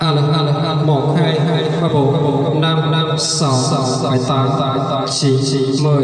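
A man counts aloud into a microphone through a 500 W FET trolley-speaker amplifier with reverb and echo turned up, so each word trails off in a washy tail. The voice is loud and continuous.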